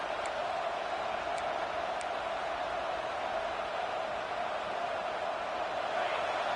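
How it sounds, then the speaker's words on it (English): A stadium crowd at a college football game between FSU and Texas A&M roars in a dense, sustained wash of noise, steady and loud throughout. "Listen to this crowd just shaking the girders of this place, trying to help their defense."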